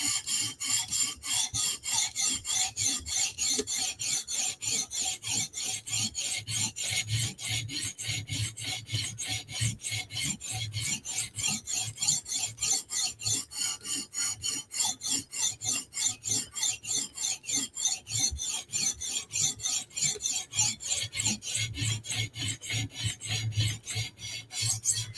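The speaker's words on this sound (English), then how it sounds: "It's kind of sticky when you slide the stone across it." A stout steel blade is rubbed against a sharpening stone in steady, rapid rasping strokes, a close, even scraping rhythm that continues without pause and without talk.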